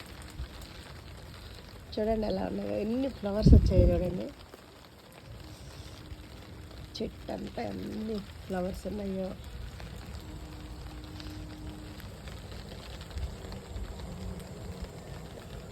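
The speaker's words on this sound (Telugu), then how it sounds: "ఫుల్ వర్షం పడుతుంది." Heavy rain falls on a garden with jasmine plants, a steady hiss and patter running throughout, while a person talks over it in short bursts near the start and middle.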